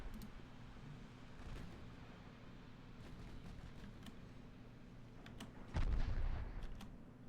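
A 6.5-inch naval gun fires in a battle from Ultimate Admiral: Dreadnoughts, set with an 1890 Russian fleet: a faint low rumble of distant battle, then one heavier muffled boom near the end.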